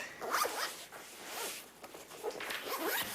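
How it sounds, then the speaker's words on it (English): Zipper on a laptop bag pulled closed in several quick bursts, close and crisp, with short pauses between strokes. "Just put them all into your laptop bag, zip it up"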